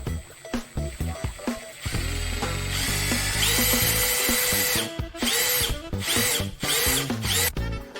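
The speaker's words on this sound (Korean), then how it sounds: "확실히 미로키 제품이라 그런지 트리거 컨트롤이 굉장히 부드럽고 세밀합니다." A Milwaukee 18V compact impact drill runs in bursts, its motor whirring and ratcheting with trigger-varied speed, stopping and restarting several times close up with no talking.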